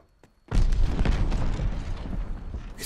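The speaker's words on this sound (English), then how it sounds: "He's throwing a mortar." A mortar explosion in Call of Duty: Vanguard, one close, heavy boom that hits suddenly and rolls on with a long rumbling tail.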